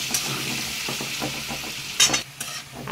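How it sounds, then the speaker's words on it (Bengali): Potatoes tossed with turmeric in a frying pan, a sizzling bed broken by repeated scraping and clattering strokes of a spatula, with a louder clatter about two-thirds through. "একটু হলুদ দিয়ে নাড়াচাড়া করে নিচ্ছি।"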